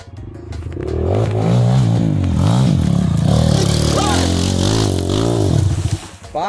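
Motorcycle engine revving loudly and continuously on a dirt trail at a wooden bridge crossing, with shouting voices over the engine.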